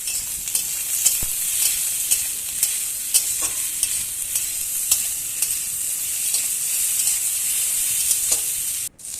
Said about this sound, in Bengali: পটলগুলো দিয়ে বেগুনটা দিয়ে আলুও দিয়ে দিয়েছি দিয়ে সব সবজিগুলো আমি একেবারে ভেজে নেব